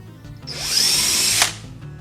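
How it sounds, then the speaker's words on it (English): A power drill whirs up to a high, steady whine for about a second as it pre-drills a hole into wood, then winds down; close and loud. "and then I can pre-drill my hole"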